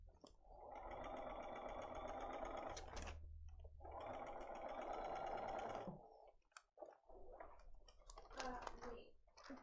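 Sewing machine stitching quilt pieces at a quilting workshop, two long close runs of fast, steady mechanical whirring, then short bursts and clicks as the machine stops and starts.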